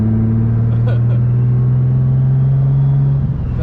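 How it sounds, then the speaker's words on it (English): Steady engine drone with a sustained low tone of a turbo spooling at cruise in a 700 wheel-horsepower turbocharged Infiniti G35, continuous and fairly loud, with faint cabin noise. "You can just hear the turbo just spooling normally now."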